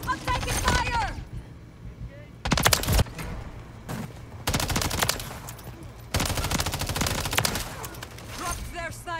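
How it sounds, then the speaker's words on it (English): Repeated bursts of assault rifle fire in Modern Warfare III, several loud sharp automatic volleys separated by short pauses, with voices and game sounds between the bursts. "I'm taking fire."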